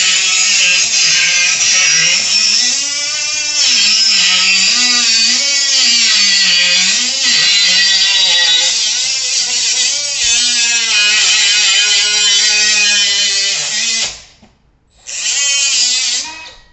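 A power saw cuts through a metal tie-down rail in a garage, giving a loud, sustained whining grind that wavers in pitch before the blade breaks through, followed by a brief drop and a short final burst.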